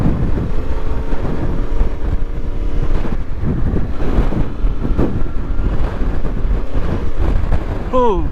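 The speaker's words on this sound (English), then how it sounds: "So much wind. So much sand." Strong wind buffets the microphone and blows sand, a constant loud low roar and rumble that runs throughout. A voice is heard faintly under the noise.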